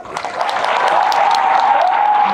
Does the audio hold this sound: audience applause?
yes